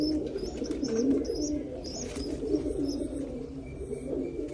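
Domestic pigeons kept for breeding coo in low, throaty murmurs close by, with faint chirps from other birds in the background.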